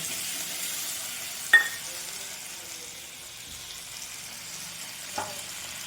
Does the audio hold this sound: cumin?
yes